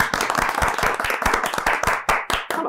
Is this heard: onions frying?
no